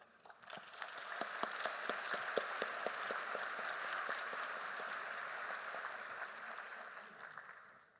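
A lecture-hall audience applauds awardees, a few sharp early claps swelling into a steady, moderately loud round of clapping that tapers off toward the end.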